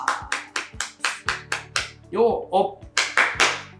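About a dozen sharp, evenly spaced claps ring out in a brisk rhythm during a morning mental-training session, briefly interrupted midway by a voice shouting a cheer before the clapping resumes.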